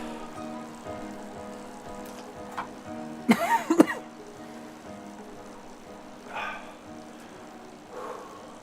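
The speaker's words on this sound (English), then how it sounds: "I didn't have this cough before though, right?" A rider on a bicycle gives a sharp burst of a few coughs and throat clearing midway through, over steady road and drivetrain noise, with a couple of fainter breaths or rustles later.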